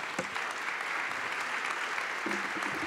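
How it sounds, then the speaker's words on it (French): At an expo held in the Hôtel de Ville de Paris, an audience applauds two speakers with brisk, continuous clapping at an even, moderate level through the short stretch. "on peut les remercier, les applaudir"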